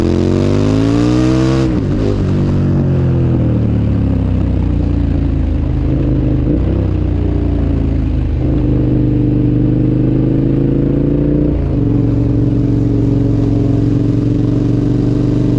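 A car accelerates hard uphill on a mountain pass road in the Cantal. Its engine drones loudly and revs climb, then drop at several gear changes, with no voices.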